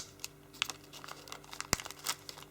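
Origami paper folded down in a reverse fold for a braided design, soft close crinkles and a few sharp crisp snaps as the creases are pressed, faint and sparse.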